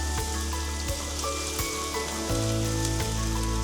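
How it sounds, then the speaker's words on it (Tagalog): Onions sautéing in hot vegetable oil in a pan, a steady close sizzle with soft crackling running throughout, with a few brief clicks and knocks over it, and no talking. "Pag mainit na ating mantika, we could now add in our onions. Just saute this until translucent."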